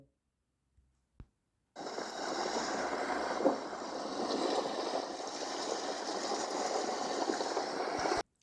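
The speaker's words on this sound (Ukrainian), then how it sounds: "Це звуки моря та хвиль." Steady broadband rushing of sea waves, continuous and fairly loud after a brief quiet start with a couple of faint clicks.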